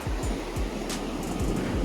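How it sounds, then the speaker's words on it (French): Ocean waves breaking near a rocky shore, a continuous loud roar of surf with wind buffeting the microphone. "On s'est rapproché un peu plus des vagues."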